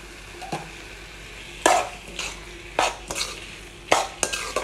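Cashews and almonds frying in ghee for gajar halwa, stirred in a pan: a soft steady sizzle broken by several sharp scraping stirs of the spoon, close and fairly quiet, with no talking.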